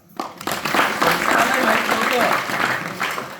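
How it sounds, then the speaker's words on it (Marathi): Crowd at a Marathi satsang with a palanquin festival breaks into applause, a broad sustained patter of many hands holding steady for about three seconds. "बरं त्या शंकरासाठी एकदा टाळ्या होऊ द्या"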